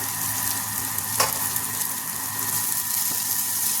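Chopped garlic and green chillies sizzle steadily in a pan of oil for a mushroom masala gravy. A brief sharp scrape of stirring breaks in near the middle of the continuous frying hiss.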